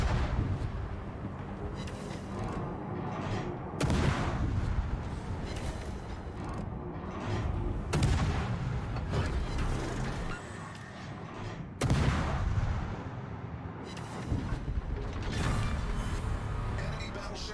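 Battleship main guns firing in World of Warships, heavy booming salvos roughly every four seconds over a constant dense rumble of mechanical battle noise.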